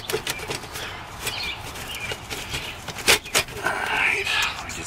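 Birds flutter and scuffle in a nest tucked inside a building, with irregular bursts of wing flapping and scratchy rustles, close by and fairly loud.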